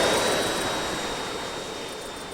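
Simulated NASA plane in the RealFlight Evolution RC flight simulator roars past at high speed, a steady jet-like whoosh that slowly fades over about two seconds, with no talking.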